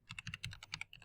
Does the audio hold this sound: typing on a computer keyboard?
yes